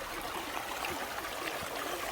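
A mountain valley stream flows beside a campsite in Danyang, giving a steady, close rushing and gurgling of water with no voices.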